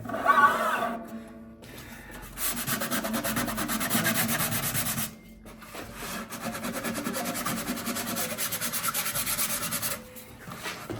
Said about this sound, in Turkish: Bu zımparayı yapmak istiyordum çünkü ben